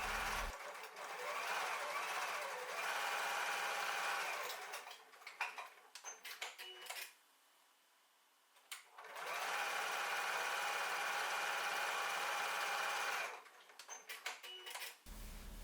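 A sewing machine runs in two long steady bursts, top stitching the long sides of a fabric strap for a zipper tote bag, with a short pause between runs and close, even needle chatter throughout.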